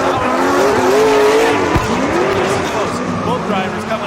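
Drift cars battle in a Klutch Kickers drift series competition round, with loud, sustained tire squeal and engine roar under a commentator's continuous talk.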